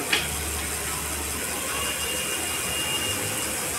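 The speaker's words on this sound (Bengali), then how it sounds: "এখানে সাইকেলটা স্ট্যান্ডে দিয়ে ঘোরাচ্ছি" An electric bicycle converted with a lithium-ion battery motor spins its wheel freely on a stand at no-load speed, giving a steady mechanical whir with faint ratcheting texture throughout, close and continuous, with no talking.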